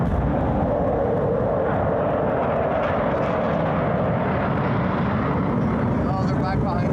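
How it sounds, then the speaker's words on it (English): Blue Angels jet aircraft circle over city buildings during Seattle Seafair, a continuous deep, loud engine rumble echoing off the streets without letup. "Their engines echoed through the buildings, this deep rumble that you didn't just hear, you felt it."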